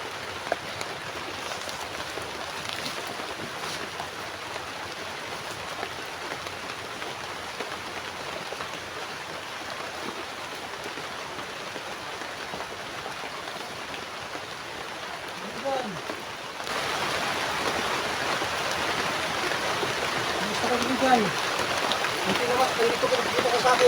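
Water flowing along a canal, a steady rushing and trickling wash that continues throughout and becomes noticeably louder and nearer partway through.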